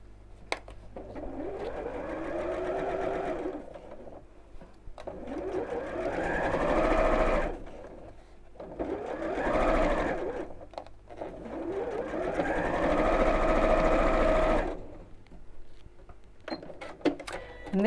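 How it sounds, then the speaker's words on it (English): A sewing machine stitches a channel just beneath elastic on a child's backpack, running in three or four long, steady stretches with short pauses between, close and clear with no talking. "sew the channel just underneath the elastic"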